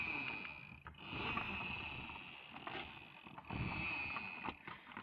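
A toy fire engine with lights and sounds is pushed along, giving off a steady mechanical whirring and rattling with a few brief breaks, fairly close and moderately loud.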